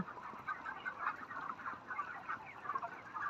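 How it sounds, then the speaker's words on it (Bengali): Thirty-four-day-old broiler chickens filling a poultry shed cluck and chatter continuously as a dense flock, moderately close and fairly quiet. "আমার পিছনটা আছে একদম এ মাথা থেকে আর ও মাথা অবধি মুরগি"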